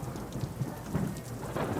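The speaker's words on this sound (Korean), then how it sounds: "조금씩 비가 내리기 시작했다." Rain and thunder sound effect in a Korean audio drama: a steady, soft wash of falling rain with low rumbling swells, quiet and continuous, with no voices.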